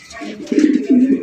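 Fancy racer pigeon of the round-bodied golla type cooing in low, rolling bursts, two swelling coos close by with faint background chatter.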